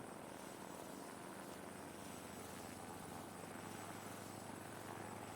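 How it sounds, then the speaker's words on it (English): A military helicopter flies nearby at a desert base near oil fields, its rotor giving a steady, dense, unbroken roar throughout, with no talk. "I see our chopper."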